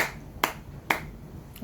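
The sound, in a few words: hands clapping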